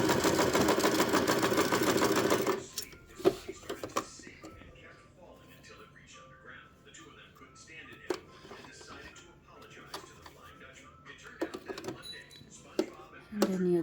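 An Elna 120 sewing machine stitching in reverse: a loud steady motor whir for the first seconds, then quieter mechanical clatter and clicks with a person talking over it.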